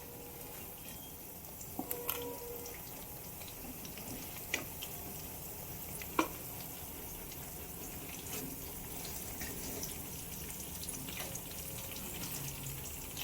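Aloo cheese rolls fry in hot oil with a steady, soft, hissing bubble that runs throughout, broken by a few faint clinks of a utensil.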